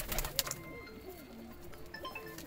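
A Teddy pigeon coos nearby, low warbling calls rising and falling, with brief fluttery handling noises and faint chirps from other birds in the background.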